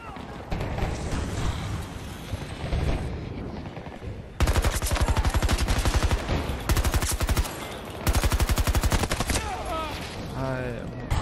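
Rapid automatic gunfire in a Battlefield 2042 multiplayer gunfight, loud and dense in sustained bursts with short pauses, mixed with game noise and a brief voice near the end.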